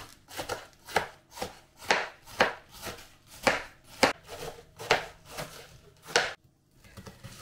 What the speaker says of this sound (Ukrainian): Наріжу капусту.